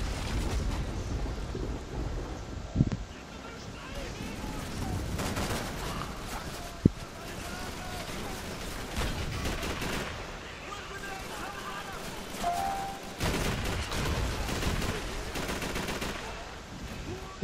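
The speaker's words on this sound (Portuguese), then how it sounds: "Eu tava tomando um bocado de tiro ali" Gunfire and explosions in the Call of Duty 3 video game, a dense, continuous roar of shots and blasts with a few sharper cracks, with someone talking over it.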